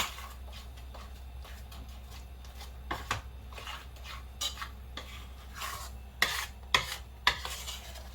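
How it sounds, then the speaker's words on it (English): Sandesh mixture with sugar being stirred in a pan, soft scraping and light sizzling that grows busier with sharper spoon knocks toward the end, quiet and close. "you have to continuously keep on working. Yeah, keep on stirring and look"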